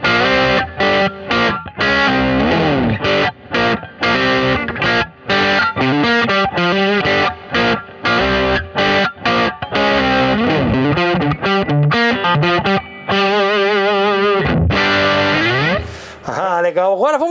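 A Cort KX100 electric guitar played through a distortion preset on a Boss GT-1000 churns out loud, saturated riffs and chords with choppy stops, ending in a sustained ringing chord.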